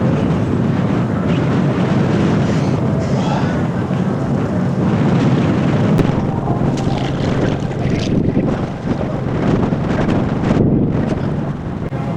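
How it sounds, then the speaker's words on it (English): Strong wind buffets the microphone in a loud, continuous roar across a road lined with tipped trash cans, a roadblock and a battered canopy, gusting unevenly throughout with no one talking. "There's too much wind today."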